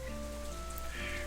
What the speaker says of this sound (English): Rainwater is relentlessly pouring down from the blue-gray sky outside, streaming down the glass of my window